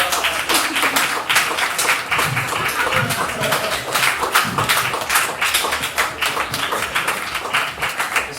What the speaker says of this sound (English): You may clap now, thank you.